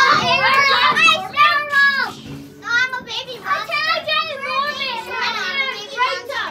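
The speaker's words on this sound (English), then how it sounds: "Kids playing in horse trailers." Children play in horse trailers at a family gathering, their lively high voices chattering and calling out close by in overlapping bursts.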